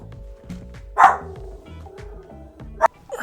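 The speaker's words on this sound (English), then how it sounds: "now that she's done barking like an animal" A dog barks indoors in a home setting, two sharp yips standing out above a steady low hum, close and fairly loud, spaced about two seconds apart.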